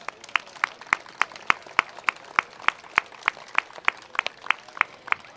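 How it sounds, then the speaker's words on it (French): Audience at a crafts and traditions festival clapping for the staff team, with sharp, regularly timed claps repeating at a brisk, even pace over a quiet background. "Merci de les applaudir."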